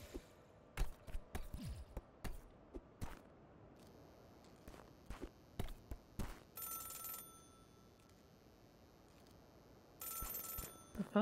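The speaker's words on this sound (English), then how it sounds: "The phone is ringing." In the video game Celeste, a telephone rings in two bright, buzzing electronic bursts, separated by a pause, after a stretch of scattered clicking footsteps. The ringing is fairly quiet with no voices.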